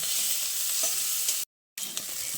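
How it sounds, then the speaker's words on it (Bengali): Potatoes and onions fry with tempering spices in a pan for a spicy cabbage dish. A loud, steady sizzle runs with soft stirring scrapes and drops out briefly for a moment of silence before resuming. "এবার আলু আর পেঁয়াজটা দিয়ে ফোড়নের সঙ্গে কিছুক্ষণ ভেজে নেব।"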